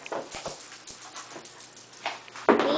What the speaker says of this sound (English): This is my uncle's dog, and she is the smallest thing ever.